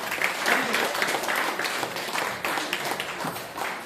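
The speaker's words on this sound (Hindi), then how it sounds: "राकेश भाई साहब के लिए जोरदार तालियां।" A crowd claps in sustained applause, dense and steady for a few seconds, fairly close.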